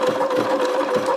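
A Bernina sewing machine backstitches a few stitches, its motor giving a close, steady mechanical whir with a faint rapid needle rhythm, heard alone.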